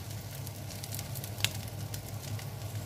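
Cheese sizzles and crackles steadily in a hot frying pan, close up, with one sharp pop partway through.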